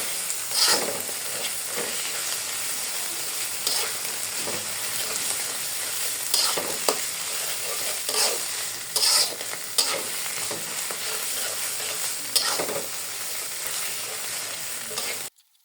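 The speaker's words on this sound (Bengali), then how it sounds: "ভালো করে শাকটা আমি একদম মিলিয়ে নিব" Leafy greens stir-fried in a pan with spatula scrapes and a continuous close sizzle, repeated stirring strokes punctuating the frying, no voices present.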